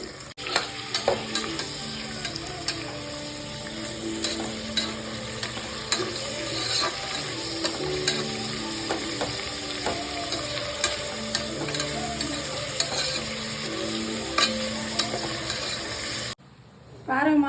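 Sliced onions fry in a pan for egg biryani, a continuous close sizzle with frequent scraping and clinking as they are stirred, ending abruptly near the close.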